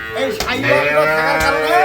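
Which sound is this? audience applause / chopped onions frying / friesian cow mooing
friesian cow mooing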